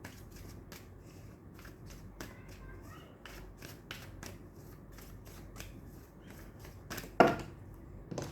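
Playing cards shuffled by hand during a tarot-style reading, a soft steady riffling and flicking that runs throughout at close range, with a sharper snap of cards near the end and no talking.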